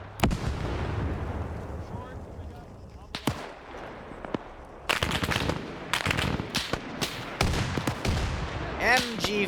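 MG42 machine gun fire in a Rhodesia-themed war video game: loud, sharp bursts of rapid shots separated by short pauses, with heavier booming blasts and rumbling echo underneath.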